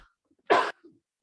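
A single sharp sneeze bursts out during a podcast recording, one short forceful blast in an otherwise quiet moment, followed by a faint breathy trailing sound.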